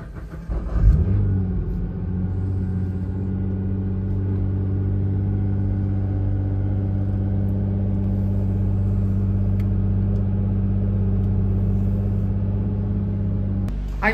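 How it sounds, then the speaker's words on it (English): A Nissan GT-R idles with a steady, deep mechanical rumble that stays constant for over ten seconds after a brief start-up surge, close and even, with no speech over it. "In the background you hear the GT-R running."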